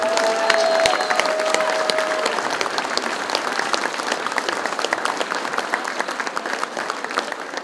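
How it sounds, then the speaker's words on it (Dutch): An audience at a Dutch carnival event gives a long round of warm applause, dense clapping that starts loud and slowly eases, with a few sharp claps up front. "En vier jij hem een geweldig applaus."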